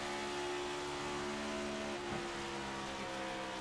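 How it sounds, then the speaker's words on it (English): A race car engine in a racing video game at Auto Club Speedway hums loud and steady, then drops pitch with a quick downshift partway through before carrying on. "And you hear the downshift."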